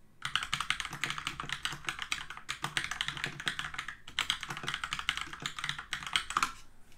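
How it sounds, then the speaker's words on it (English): Fast, steady typing on a computer keyboard as a prompt is entered into an AI website-building tool, a dense close run of clicking keys with two brief pauses and no voices. "So we can just type in a prompt."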